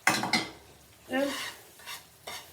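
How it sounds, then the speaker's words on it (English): Spaghetti with anchovies and toasted breadcrumbs stirred in a pan, giving a few scraping, clattering strokes with short pauses between them and a light sizzle underneath. "mix it all up. Mix it nice."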